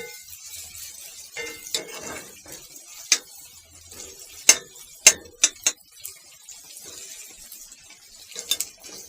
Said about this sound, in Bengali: তারপরে সুন্দর করে একটু নাড়াচাড়া করা লাগবে।